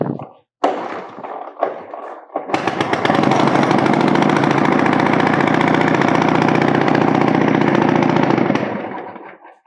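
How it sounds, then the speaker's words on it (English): A 1927 Indian Scout motorcycle engine fires up after a restart and runs steadily at a fast, loud, rapid-firing idle, following a few brief starting attempts and mechanical clatter. "it's amazing, isn't it, that you can just fire a bike like that up"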